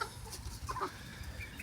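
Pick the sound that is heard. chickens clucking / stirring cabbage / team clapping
chickens clucking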